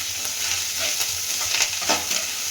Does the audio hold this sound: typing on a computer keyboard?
no